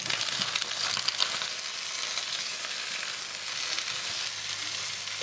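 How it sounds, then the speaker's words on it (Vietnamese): Eggplant pieces pan-fry in about two tablespoons of hot oil seasoned with a pinch of salt, giving a steady, loud, continuous sizzle that fills the whole stretch with no talking. "Sau đó mình áp chảo."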